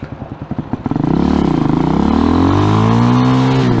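An RPS Hawk 250 enduro motorcycle pulls away from a standstill in first gear: a few idle putts, then a single rising rev that holds a buzzy, close engine note for several seconds.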